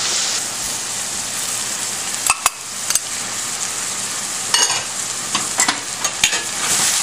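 Capsicum stir-fried in a pan for Indian-style Chinese fried rice gives a loud, continuous close sizzle, broken by sharp scrapes and taps of a spatula against the pan at an irregular pace.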